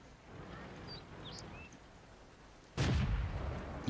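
A single heavy tank cannon shot booms out suddenly and loudly in a tank video game, likely from an M4A3E8 Easy Eight Sherman, cutting through a low rumbling battlefield ambience and lingering briefly as a rough roar.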